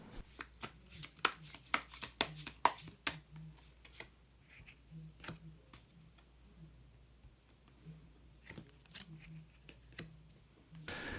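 Tarot cards are shuffled in quick, crisp riffles and flicks, busy at first and then sparser as a single hidden card is drawn and laid down, close and quiet with no talking.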